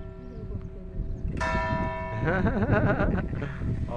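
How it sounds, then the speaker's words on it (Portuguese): A church bell rings out in the town of Areias, its strike at about 1.4 s leaving a long shimmering ring, with a few more clangs layered over outdoor background noise and faint talk nearby. "Olha o sino batendo."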